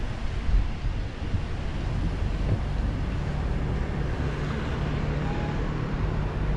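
Strong typhoon wind roars through a street on Rua de Hong Chau in Taipa, Macau. It is a continuous, rushing broadband howl with rumbling gusts and buffeting against the microphone.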